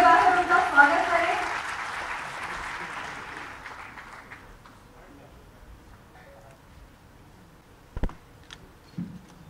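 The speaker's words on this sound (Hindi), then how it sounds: "आप सब ताली बजाकर उनका स्वागत करें।" An audience claps to welcome the singer at a stage event. Loud, dense applause fills the first few seconds, then fades into quiet, followed by a couple of isolated knocks.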